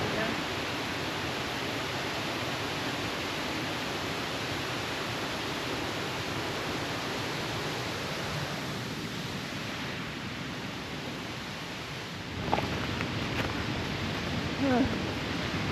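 A steady, broadband roar of waterfalls heard from a bridge in a New York state park, continuous and fairly distant, filling the whole stretch with a faint thump near the end.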